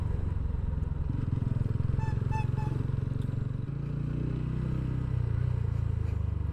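A motorcycle rides along a hilly mountain road in North Bengal, its engine a steady close rumble with a brief clattering moment partway through and a slight shift in tone near the middle.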